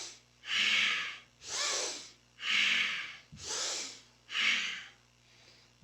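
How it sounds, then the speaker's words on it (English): Slow, deep breaths during a Kundalini yoga kriya, five rushing airy cycles of inhale and exhale in an even rhythm, close and soft, with no talking. "And deep breath, deep inhale, and a full exhale."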